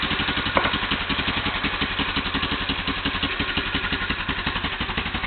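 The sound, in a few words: Yamaha Big Bear ATV engine running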